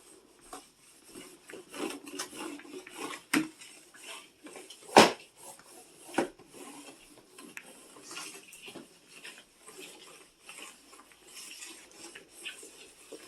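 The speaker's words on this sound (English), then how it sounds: "Got my Swiffer mop. The floor is a little sticky over by the couch." Quiet scraping and rubbing of a Dollar Tree Swiffer mop with Scrub Buddy refills working a sticky floor near a couch, with soft irregular strokes and a few sharper knocks and clacks scattered through.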